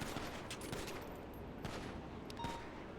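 Gunfire from a police shootout in GTA NoPixel crackles in rapid bursts and volleys, a fairly dense, continuous exchange heard at moderate distance without talking.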